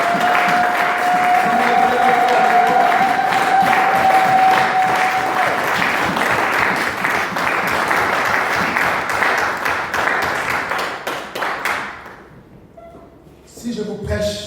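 A church congregation breaks into loud, sustained applause with voices mixed in. The clapping keeps up strongly for about twelve seconds, then thins out and fades, and a short burst of sound follows.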